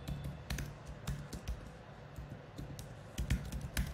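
Computer keyboard typed on while writing code, a close, quick irregular patter of key clicks and taps with no voices.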